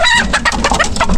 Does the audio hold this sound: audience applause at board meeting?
no